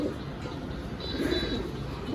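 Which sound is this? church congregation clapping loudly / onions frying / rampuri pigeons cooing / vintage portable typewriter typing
rampuri pigeons cooing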